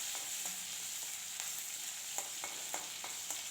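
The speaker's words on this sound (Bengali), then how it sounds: "রসুন কুচি আর কাঁচা লঙ্কাটা খুব ভালো করে ভাজা ভাজা করে নিতে হবে" Chopped garlic and green chillies sizzle steadily in hot oil, with a continuous close crackle broken by small pops and occasional stirring scrapes, and no voices.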